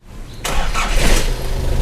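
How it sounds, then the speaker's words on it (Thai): A Nissan Big-M pickup truck engine cranks and catches, then settles into a loud, steady idle close by. "เดี๋ยวผมสตาร์ทฟังเสียงเครื่องยนต์นะครับ"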